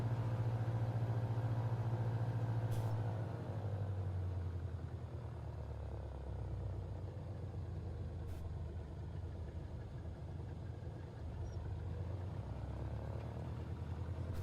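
A light aircraft engine running steadily at Meeks Field as the brakes come off and it begins rolling for takeoff on runway 36, a loud continuous drone that eases slightly after a few seconds, with no talk.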